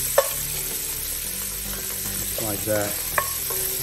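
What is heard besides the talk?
bacon frying in a pan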